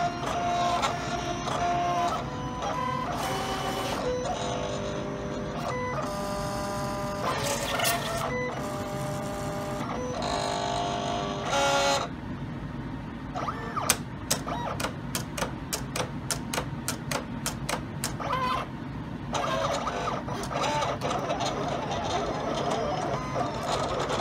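Silhouette Cameo cutting machine slicing a holographic sticker sheet, its carriage whirring in repeated printer-like bursts with rapid ticking clicks, steady and close throughout.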